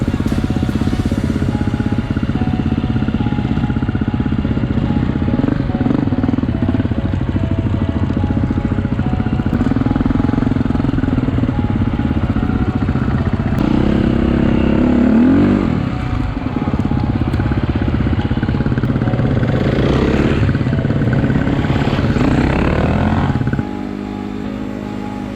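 Dirt bike engines roar steadily on a river trail ride, a loud continuous drone that rises and falls with throttle and lasts the whole stretch.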